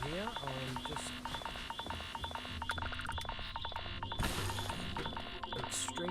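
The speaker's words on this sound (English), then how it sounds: "Extreme Solar. That's why we're getting the double beeps there." Repeated double warning beeps in Starfield signal environmental hazards such as extreme solar radiation and corrosive liquid rain, sounding in quick pairs over game music and sound effects while someone talks.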